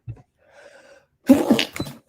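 A single sharp sneeze bursts out after a faint intake of breath, close to the microphone, with a short gasp beforehand and nothing else around it.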